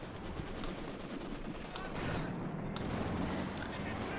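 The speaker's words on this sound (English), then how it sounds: "this poor combat engineer squad's getting forced back under an incredible amount of firepower. 2 Maxims right there" Maxim machine guns fire in Company of Heroes 2 amid a dense battle, with rapid rattling bursts and scattered explosions that grow louder partway through, under a voice talking.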